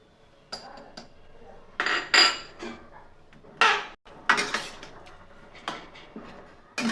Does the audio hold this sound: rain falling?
no